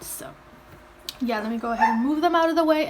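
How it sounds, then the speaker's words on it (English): Dogs barking and yipping, a short sharp bark early on, then a sustained whining, howling bark that rises and wavers behind a person talking close by. "sorry if you hear barking, that is my dogs"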